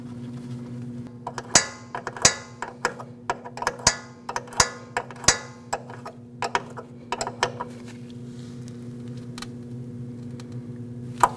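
A metal brake line fitting being threaded and tightened into a brake hose, a run of sharp clicks and ratcheting taps close by, irregular and quick, over a steady low hum.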